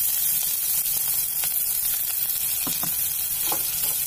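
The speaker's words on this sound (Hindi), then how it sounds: "तेल चटकने लगेगा, दो प्याज डाल दूंगी, बड़े साइज के दो प्याज है" Onions and green chilies frying in hot oil, a dense continuous hiss with a few sharp crackles and pops near the end, close and loud with no voices.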